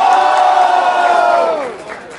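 An audience at a Brazilian regional rap battle cheers and yells for a rapper, a loud and sustained crowd roar that holds steady before tapering off near the end.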